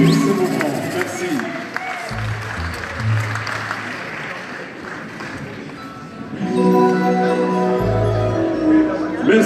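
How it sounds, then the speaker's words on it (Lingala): Crowd applause after a concert in Brussels: steady clapping from a sizable audience with some cheering, sustained over nearly ten seconds, mixed with amplified voices and low background music. "Merci d'applaudir ce moment."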